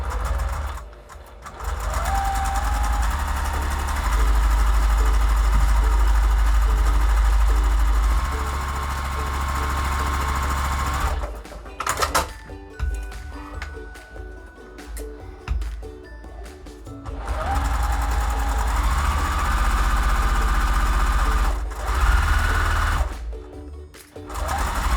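A sewing machine stitches down quilt fabric for flying geese quilt blocks, running in long steady bursts with a brief pause near the middle, close and loud with no talking.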